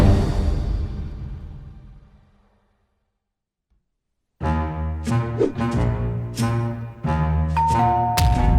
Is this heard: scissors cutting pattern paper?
no